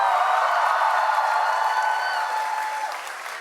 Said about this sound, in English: Please put your hands together for Desi Beat.